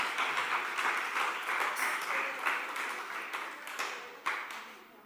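A church congregation applauds during a sermon. The clapping is dense and sustained, and it thins and fades toward the end.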